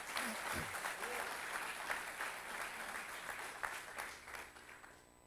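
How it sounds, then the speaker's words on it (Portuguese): A church congregation applauds in a sustained burst of many hands clapping, fairly quiet and gradually tapering off, with faint voices underneath. "Um aplauso a Deus."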